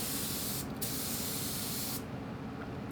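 Spray gun laying down an even coat of silver pearl paint, a steady close hiss that runs for about three seconds with a brief dip partway through.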